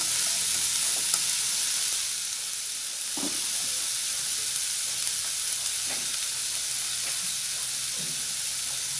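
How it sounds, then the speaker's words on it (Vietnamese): Vegetables with chili stir-frying in a hot pan, a continuous bright sizzle with occasional scraping stirs and soft clinks, close and steady. "Các bạn chỉ xào khoảng chừng từ 3 đến 4 phút rồi nha, là nó chín"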